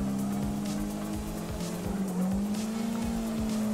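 A car drifting in CarX Drift Racer on Xbox with a steering wheel, the engine holding a steady high drone while tires squeal continuously, close and loud.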